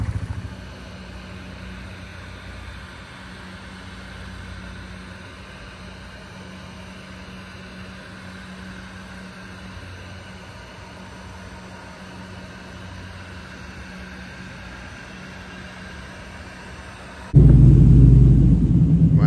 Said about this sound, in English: I ended up getting this damn four-wheeler running, so it is what it is, man